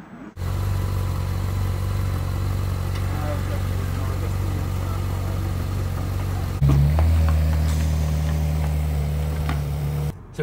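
A Ferrari engine hums steadily from inside the cabin while driving in the Cotswolds, a low continuous drone that rises slightly in pitch partway through as the car picks up speed.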